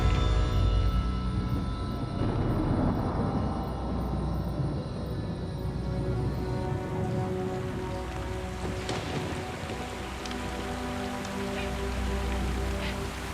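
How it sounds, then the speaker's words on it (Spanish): Heavy torrential rainfall in a jungle during the rainy season, a dense continuous hiss of drops pounding surfaces, with a low rumbling undertone and scattered sharper patters, steady throughout with no voices. "Mientras el aguacero empapa el avión saturado de combustible, rápidamente se convierte en un diluvio."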